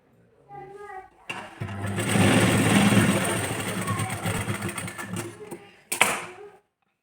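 A sewing machine stitching blouse fabric strips together, a fast continuous mechanical whir starting abruptly after a short spoken moment, holding loud for several seconds, then stopping, followed by a brief rattle.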